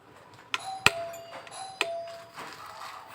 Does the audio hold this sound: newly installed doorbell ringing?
yes